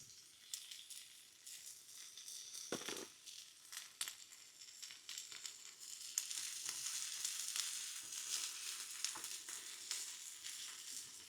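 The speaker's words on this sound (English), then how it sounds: "So these onions are already starting to caramelize down nicely now." Onions frying in a pan at a campsite, seasoned with salt and pepper, sizzle steadily and close up with a broad crackle and occasional stirring scrapes, growing slightly louder partway through.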